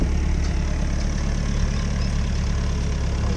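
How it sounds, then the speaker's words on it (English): A tractor engine idles steadily and close at Omaruru Game Lodge in Namibia, a loud, even low rumble with no breaks and no voices. "These guys on the tractor, they come and put out some hay for the animals."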